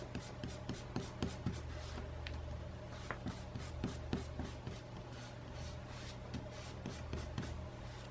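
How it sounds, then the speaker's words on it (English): A pencil grid is rubbed out with an eraser on paper, quiet scratchy strokes repeating in quick irregular bursts, close up with no talking. "I'm going to erase my grid."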